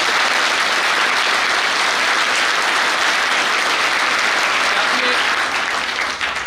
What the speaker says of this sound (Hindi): ज्ञान जी के लिए तालियां बजा के।